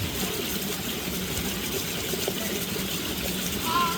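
Constant rushing of river water spilling over a small waterfall in Barangay Mabato, Calamba, Laguna, a steady broadband wash with no voices.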